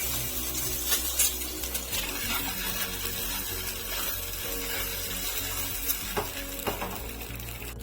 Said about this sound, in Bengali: ডিমা নিয়ে নেড়ে ভালোভাবে ভেজে নিচ্ছি